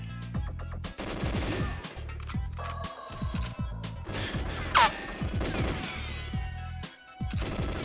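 Gunfire from the video game GoldenEye 007: rapid bursts of shots and impact smashes, with a sharp loud crack near the middle, running steadily over the whole stretch with no talk.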